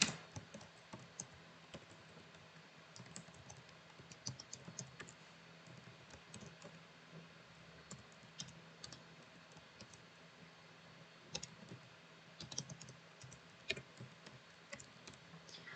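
Quiet, steady typing on a computer keyboard while a new project is renamed in BIM software, with irregular bursts of light key clicks and occasional sharper taps, close and alone with no talk.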